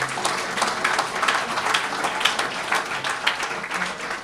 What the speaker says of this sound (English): I think a round of applause for everybody.